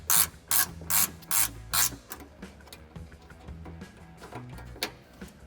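A hand ratchet works loose a factory 10mm bolt on a 2011-or-later Dodge Charger, with about six quick bursts of clicking followed by slower, quieter turns, close and clear.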